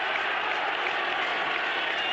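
Crowd at a 2005 Ashes Test match between England and Australia applauding, a dense, steady wash of clapping from many hands that holds at even loudness throughout.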